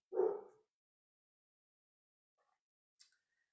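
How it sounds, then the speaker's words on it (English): A single dog bark, fairly close and brief, followed by near silence with a couple of faint, tiny noises. "I hear Robert barking."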